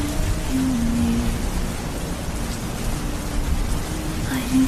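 Steady, dense rain falls on surfaces throughout, with a low rumble of distant thunder underneath the constant wash of the storm.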